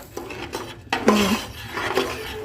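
Pulao rice being fried and stirred in a metal pan, with utensil scrapes and clanks against the pan, a few louder knocks, no speech.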